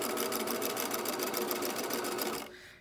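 A sewing machine runs steadily and close up while stitching overlapped elastic onto underwear, its rapid even needle rhythm holding for over two seconds before it stops.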